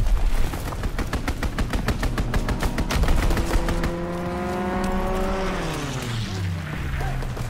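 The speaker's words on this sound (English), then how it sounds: "Strafing run inbound." In Call of Duty WWII, an aircraft strafing run opens with a rapid burst of heavy gunfire, then a plane engine drones past, its pitch sliding downward as it moves away.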